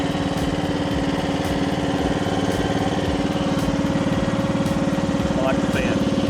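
Steady running engine of an AGT WH12R Chinese mini excavator, a continuous close drone with a regular rhythmic chug and no pauses, loud throughout.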